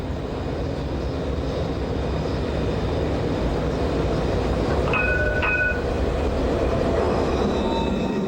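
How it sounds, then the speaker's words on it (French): A Citadis tram rolling through Lyon, a loud steady rumble of wheels and motors close by, with a brief high squeal of wheels on rails midway, no voices. "Lyon s'enorgueillit aussi de son tramway"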